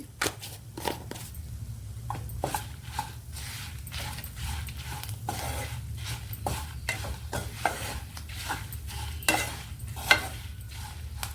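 Whole spices fry in hot oil in a pan with a pinch of asafoetida added, for spice powder made with bitter gourd. A steady low sizzle runs throughout, broken by frequent scraping and clinking stirs of a spoon against the pan.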